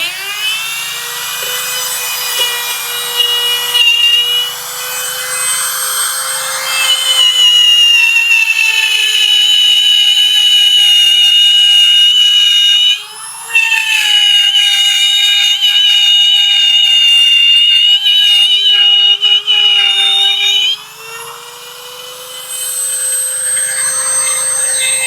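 A wood router cuts a curved furniture piece with shallow passes of about 2–3 mm, giving a loud, sustained high-pitched whine that dips briefly and shifts pitch as the cutter moves through the wood.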